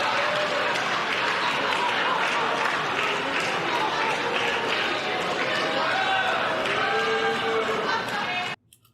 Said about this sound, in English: She kept clapping, even if being called Pocahontas.